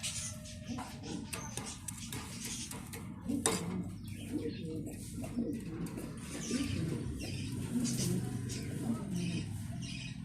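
Mundiya pigeons coo softly on a pigeon farm, with scattered metallic clinks and light clatter mixed through the quiet scene.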